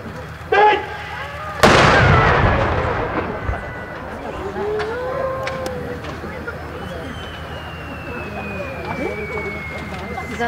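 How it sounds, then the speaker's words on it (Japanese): An artillery cannon fires at a mock-combat demonstration for the 2013 anniversary event of the 1st Engineer Brigade at Camp Koga in Japan. A smaller thump comes first, then a loud, sharp blast rolls off in a long echo while a voice speaks over loudspeakers. "皆様、特化の大砲が2回射撃します。 大変大きな音がします。"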